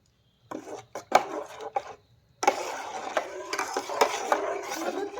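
Powdered milk stirred into a pan of hot water, a close run of scraping, rasping clinks from a spoon against the pan in short bursts, then a steadier continuous stirring scrape.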